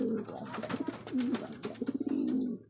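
Pigeons kept for sale coo repeatedly at close range, a string of soft throaty pulses, with no talk over them.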